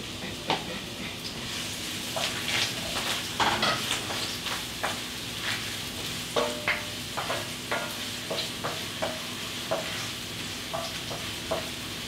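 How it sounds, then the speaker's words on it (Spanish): Onion sizzles in hot oil in a pan as it is stirred, a steady frying hiss punctuated by regular scraping and clicking stirs, close and clear with no talking. "Tengo aquí aceite calentando, voy a agregar cebolla."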